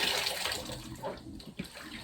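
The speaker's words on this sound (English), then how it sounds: "Soak it. Keep pushing it down into the water." Laundry is pushed down into a tub of hot soaking water, making faint sloshing and gurgling with a couple of small splashes.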